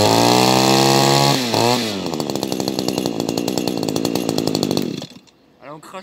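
A small Echo SRM-250SI brushcutter two-stroke engine, which has a faulty carburettor, fires up and runs loud and buzzy with a rapid, pulsing rhythm for several seconds, then cuts out abruptly into near quiet.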